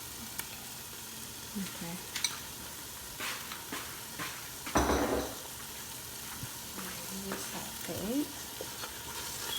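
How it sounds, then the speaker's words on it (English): Sautéing in Ethiopian spice butter for doro wot chicken stew, a quiet steady sizzle with occasional stirring scrapes and a brief louder burst midway, and a single short spoken word. "As it's being sauteed, both like with the butter and before putting in the butter"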